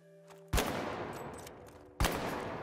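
Two loud, separate shots from a light gun in the video game The Finals, each with a sharp crack and a long echoing tail, about one and a half seconds apart.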